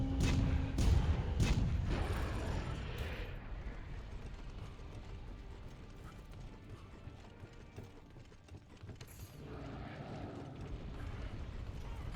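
A few loud, booming cannon blasts open the clip, followed by clanking mechanical handling sounds and a busy battle background in Monster Hunter World during the Zorah Magdaros fight.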